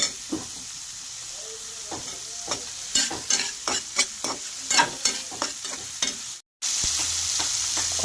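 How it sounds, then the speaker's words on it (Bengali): Cumin powder and spices are stir-fried in a pan, with a steady sizzle under a run of scraping, clattering spatula strokes, close and moderately loud, broken by a brief cut near the end. "এবার এগুলোকে ভালো করে আমি কষা দেবো"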